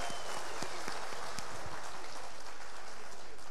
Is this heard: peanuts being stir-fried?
no